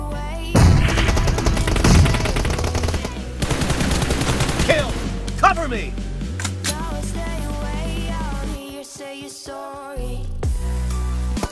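M416 assault rifle fire in BGMI, loud, dense and continuous, with rapid shots running through most of the stretch and other battle sounds in the mix.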